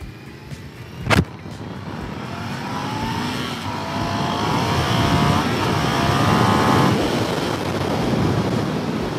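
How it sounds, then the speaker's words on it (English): A small, fun motorcycle accelerates hard from near standstill to high speed, its engine note climbing steadily in pitch over several seconds. A sharp thump comes early, and heavy wind buffeting runs underneath as the bike pulls away. "Zero to 80 in no time flat. Definitely a fun little bike."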